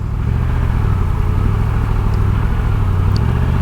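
Triumph Tiger 1200 GT Pro motorcycle engine while riding, a loud, steady throbbing drone with a low rumbling pulse and wind noise, close and continuous without talk.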